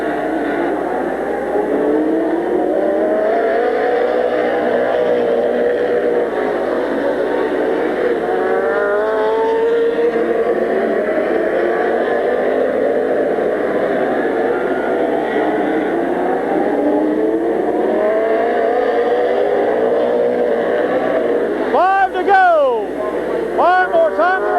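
Race cars at Midvale Speedway in 1994 drone steadily as a pack circles the track. Several engines overlap in rising and falling pitch, loud and continuous, and a sharper engine note surges near the end.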